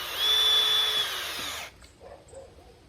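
A power drill whines loudly and steadily for about a second and a half as it drives a screw into a pallet board for a gate, then cuts off, leaving only faint handling noises.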